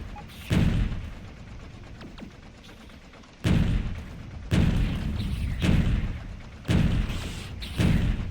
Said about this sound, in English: Good range on this gun.